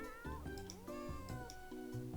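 Cats meow repeatedly in a video game, several close, clear mewing calls following one another over a steady game background with no talking.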